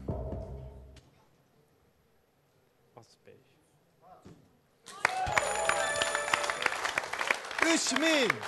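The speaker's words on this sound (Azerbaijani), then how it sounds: "Alqışlar, alqışlar" A studio audience breaks into loud sustained applause and cheering on a game show after a quiet stretch with faint sounds.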